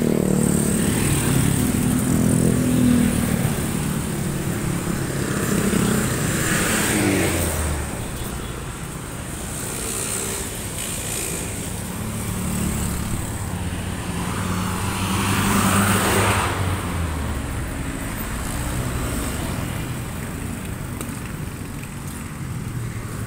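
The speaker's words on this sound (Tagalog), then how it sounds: "Ingay mga sasakyan." Road traffic on the way to work: cars, motorcycles and trucks pass continuously, with engines swelling as vehicles go by nearby and a steady roadway rumble between them, heard without talk.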